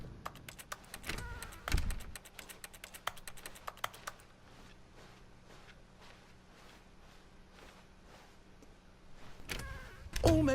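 A keyboard key clicked repeatedly to jump in The Stanley Parable: crisp, close taps in quick clusters early on, thinning out over a faint steady hum, with another soft burst near the end.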